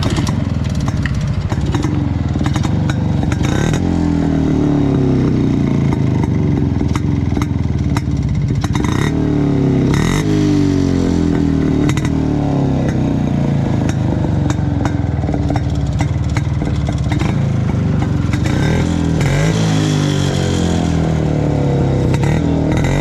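An old-model Yezdi Roadking motorcycle engine starts and runs with a loud, throaty two-stroke rumble, revving up and down repeatedly over a steady, clattering idle close by.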